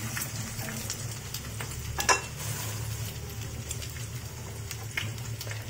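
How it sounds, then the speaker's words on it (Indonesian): Eggs frying in a pan while cooking breakfast, giving a soft, steady sizzle throughout with one brief utensil clink partway through. "Telurnya digoreng dulu"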